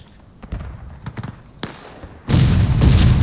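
Artillery and musket fire on a battlefield between Union and Confederate forces in the game War of Rights: scattered sharp distant cracks, then a loud booming blast with a rolling roar that sustains to the end.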